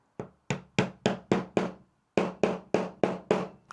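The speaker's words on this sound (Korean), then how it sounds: "제가 안 쓰는 부위 한번 구멍 뚫어보겠습니다." Eleven sharp, evenly spaced hammer strikes on a diagonal leather chisel punching stitching holes through ostrich shin leather on a chisel board, with a brief pause after the fifth blow, loud and close with no talking.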